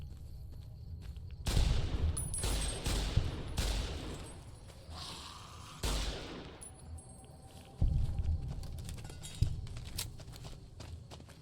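Heavy rifle shots from a modded Fallout: New Vegas firefight ring out in a handful of loud, widely spaced bursts, each with a sharp crack and a lingering tail, over a low rumble.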